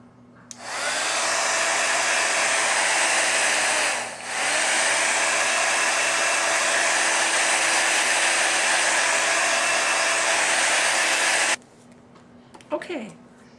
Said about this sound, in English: turn your heat gun on again and heat set this